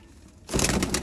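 A racing pigeon gives a short, close coo that swells abruptly after a brief quiet lead-in and lasts well under a second.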